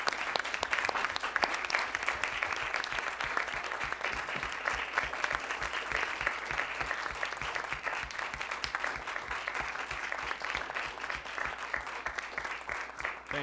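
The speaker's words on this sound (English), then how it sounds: "I think Speaker Rodenzik deserves a round of applause for his service thus far." Sustained applause from an assembly audience at a student government general assembly meeting, steady dense clapping throughout without a break, fairly loud and even.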